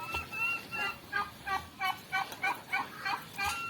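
A turkey gobbles in a rapid rattling series of short bursts, close and fairly loud, repeating about every third of a second with no talk.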